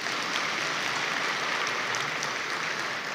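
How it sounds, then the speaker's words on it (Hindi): Steady applause from an audience at an honour ceremony at Shantivan, dense clapping filling the whole moment evenly with no voices over it. "बजाइए बजाइए ताली।"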